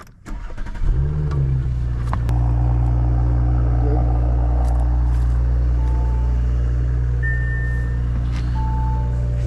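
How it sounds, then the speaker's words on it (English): An Audi B9 S4 engine cranks, catches and settles into a steady, loud idle close by, with faint beeps in the background and no talking. "So let's go ahead and turn the car on."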